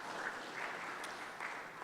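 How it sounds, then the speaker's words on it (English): Brief, soft wash of audience applause at a tennis hall of fame ceremony, faint and steady with no voices over it. "a round of applause for you guys for doing that and making that happen"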